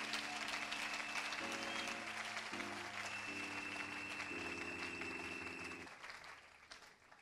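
A church congregation applauds the Lord with sustained, steady clapping over held keyboard chords, the applause fading gradually toward the end.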